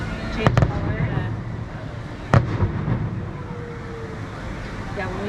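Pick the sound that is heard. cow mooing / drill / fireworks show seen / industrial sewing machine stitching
fireworks show seen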